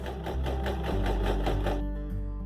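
Sewing machine top stitching the pocket of a DIY beach bag, a steady close motor whir with rapid needle rhythm running throughout before easing off near the end.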